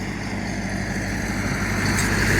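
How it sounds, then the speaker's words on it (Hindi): A tractor engine drones steadily as it returns from delivering a trolley in a village with mustard fields, a continuous mid-distance rumble that grows slightly louder toward the end. "ये ट्रैक्टर जनाब वापस आ रहा है"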